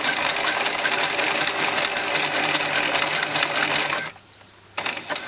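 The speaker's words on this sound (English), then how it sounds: "So we're going to sew along this seam as well." A sewing machine runs fast and loud, stitching an embellishment onto a singlet with a dense rattling whir that briefly pauses near the end before starting again.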